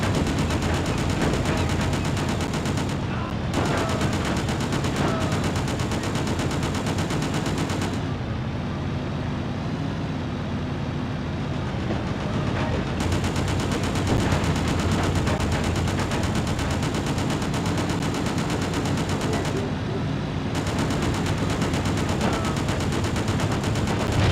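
Sustained video-game gunfire in Just Cause, dense and continuous bursts of shooting at pursuers over a loud, constant game soundscape, with brief dips in intensity before the firing resumes.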